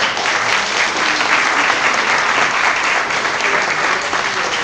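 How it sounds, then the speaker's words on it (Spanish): Audience at a forum applauding a guest after an introduction, with a steady, full wash of clapping that holds level and goes on without a break. "Un aplauso para él, por favor."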